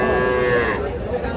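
A young bull calf of about three months lets out a single close, loud moo at the Ambari cattle market.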